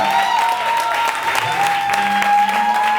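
Church congregation applauding to acclaim Jesus during a Sunday worship service, a steady, dense clapping from a crowd that keeps going throughout, with faint voices and a sustained tone underneath.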